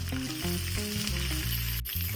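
Onion, green chili and garlic fry in hot oil with popped mustard seeds and curry leaves for a mushroom stir-fry, a continuous close sizzle with music playing underneath.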